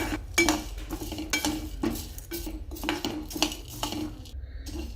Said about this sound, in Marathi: आता हे पण चांगल्यापैकी लाल भाजून घ्यायचे आहे